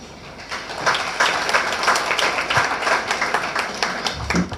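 Audience applause at a get-together, a steady wash of many hands clapping at moderate loudness, continuing evenly throughout.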